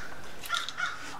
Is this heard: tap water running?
no